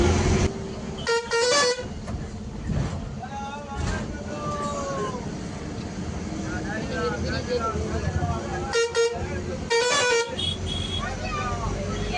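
Inside a moving, nearly empty bus, the engine drones steadily while the horn blares in several loud honks; people talk throughout over the road noise.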